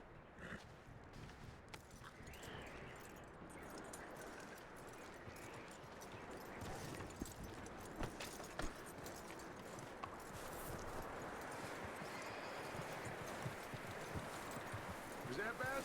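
Horse hooves clip-clop steadily across a Red Dead Redemption 2 game world, a continuous walking rhythm at close range under a dense, noisy ambient bed, with occasional speech over it.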